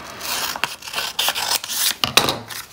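Scissors snip through folded paper while a pop-up butterfly card is made, giving a series of short, crisp cutting strokes close to the microphone, with a couple of sharper snips near the end.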